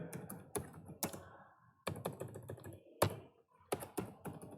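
Typing on a computer keyboard in a Notepad window, close and clear bursts of quick key taps separated by short pauses, with no voices.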